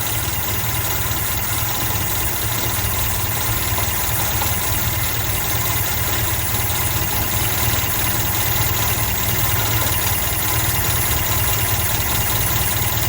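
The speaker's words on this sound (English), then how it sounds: "All right, the car is running and idling" Car engine fitted with a Weber carburetor idles steadily, a continuous low mechanical hum with faint knocking and vibration, close and loud throughout with no talk.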